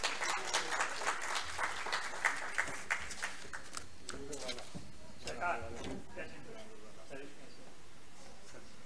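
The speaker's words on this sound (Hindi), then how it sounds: "आप सबकी तालियों की गूंज में मैं दावत कलाम दे रहा हूं जनाब मजीद अख्तर साहब।" Audience applause at an Urdu poetry recital (mushaira), a broad wash of clapping loudest at the start and slowly thinning, with a voice speaking over it toward the end.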